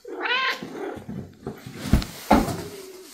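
A voice imitates a cat meowing, giving a drawn-out whiny meow followed by a few shorter, rougher mews, close and fairly loud.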